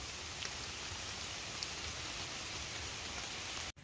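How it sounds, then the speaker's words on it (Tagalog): Steady rain pours outdoors as a dense, even hiss that holds without pause, fairly faint overall, ending in a brief dropout. "Naabot na naman kami ng ulan."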